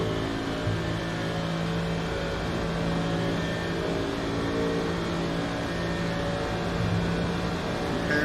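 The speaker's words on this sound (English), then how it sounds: "comparison of engine sounds here. We're in the Merc. The big V8 Merc." Big Mercedes V8 race car engine at the 24 Hours of Daytona, a loud, steady, continuous roar heard from inside the car at high speed, alone without talk.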